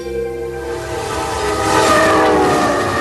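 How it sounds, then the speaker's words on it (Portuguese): An express train bound for Lhasa runs along the railway climbing toward the Tibetan Plateau, a loud close rumble with a sustained horn tone and rolling wheel clatter that swells slightly louder partway through. "o trem vai subir até o Planalto Tibetano e cruzar o teto do mundo"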